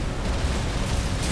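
Missile explosions in the mech combat game Armored Core VI, a dense, continuous burst of booming blasts and broadband roar filling the whole moment, loud and close with no pause.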